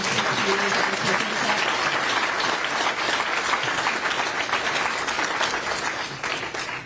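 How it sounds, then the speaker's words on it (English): Audience at a gun reform town hall in Rochester applauding the panel, a dense, steady wash of clapping that fills the whole stretch and tapers slightly at the end, with faint voices mixed in. "Can we have one more round of applause for our wonderful panel"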